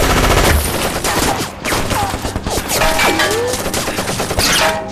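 Machine guns firing from a bell tower in a Chinese war film battle scene, loud dense bursts overlapping with explosions and whizzing battlefield effects throughout.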